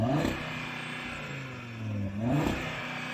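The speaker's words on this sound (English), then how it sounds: "So I'm going to rev up this Audi" A stationary Audi RS3 with a five-cylinder engine revs against its soft limiter. Its warbly exhaust note swells, dips, and rises again up close, with the idle droning between the revs.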